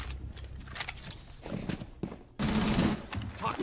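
Light machine gun fire in Rainbow Six Siege, with rapid, dense bursts of shots over footsteps and game noise, a loud sustained volley kicking in past the midpoint; a voice speaks over it.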